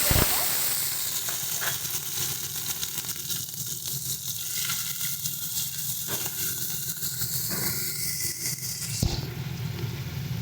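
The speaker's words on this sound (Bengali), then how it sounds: "তেল আমাদের গরম হয়ে গেছে, চিংড়ি মাছগুলো" Shrimp frying in hot mustard oil in a pan, a steady, dense sizzle and crackle that runs unbroken throughout, fairly close and even in level.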